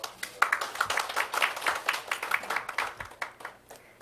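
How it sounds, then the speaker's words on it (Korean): Audience applause welcoming guests at the opening ceremony of a 2021 international data sovereignty forum, a steady patter of many hands clapping at moderate distance, fairly soft, with no talk over it. "한 분 한 분 소개해 드릴 때마다 따뜻한 박수로 함께 환영해 주시면 감사드리겠습니다"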